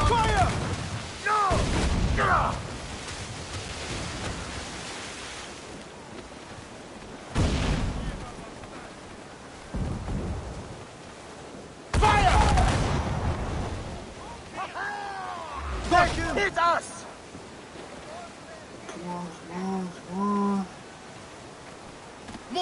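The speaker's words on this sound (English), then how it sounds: "Mortars incoming!" Booming mortar and cannon blasts from a naval battle in Assassin's Creed Freedom Cry, several heavy bursts spread across the stretch, with shouting voices and game sounds in between.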